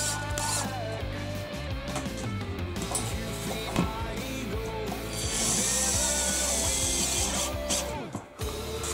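Self-tapping screws are driven in with a power tool, a close whining motor buzz with repeated bursts and pitch shifts over steady background noise, no speech.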